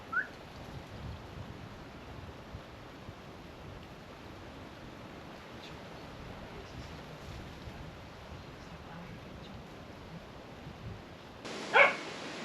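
Two dogs bark inside a small house, one short bark at the start and another burst near the end, with a steady low background hiss in between and no voices.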